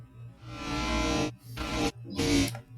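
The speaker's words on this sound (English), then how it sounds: "I just completely stretched out the washer reverse sample and started to get that kind of digital sound" A slowed, stretched, reversed washing machine sample: a smeared, swelling digital-sounding wash with a low droning hum, broken into three long sections by brief near-silent gaps.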